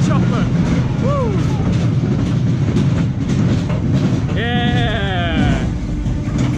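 A roller coaster train rumbles loudly along its track at Pleasure Beach, with steady roaring and clattering, while riders whoop and shout over it.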